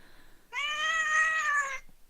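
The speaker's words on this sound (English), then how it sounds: "Unhappy cat is unhappy." An unhappy cat lets out a single drawn-out meow, close and clear, rising and holding for over a second before cutting off in a quiet room.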